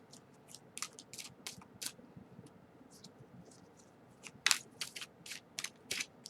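A run of quick, crisp papery riffles and snaps, brief bursts separated by short pauses, close and fairly quiet, like cards being shuffled.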